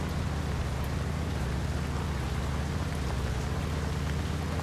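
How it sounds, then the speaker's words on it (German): Steady, dense rain falls in the video game Once Human, a continuous even wash of patter with no talk, holding constant at a moderate level throughout. "Na egal, es regnet."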